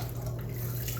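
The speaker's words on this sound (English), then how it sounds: "you gotta add some cold water to this" Cold water pours steadily into a glass container while a pine needle drink is being made, a continuous close splashing wash over a low hum with no one talking.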